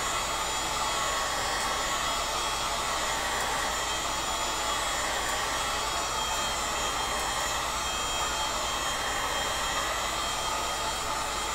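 A torch heats a metal pipe being worked into a rapier hilt, a steady roaring hiss that runs unbroken and loud at close range throughout.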